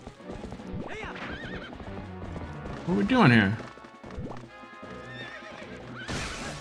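A horse whinnies loudly amid clip-clopping hooves and game effects in The Legend of Zelda: Twilight Princess, with someone talking over the action throughout.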